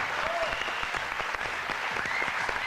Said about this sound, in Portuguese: ¡Ese aplauso para Mariví!